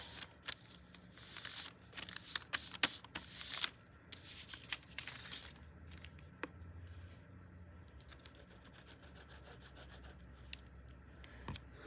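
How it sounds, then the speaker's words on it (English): Paper #10 window envelope being folded and creased by hand, crisp rubbing and rustling bursts up front, then quieter scattered handling sounds with no talk. "cover a number 10 window envelope and then just fold it."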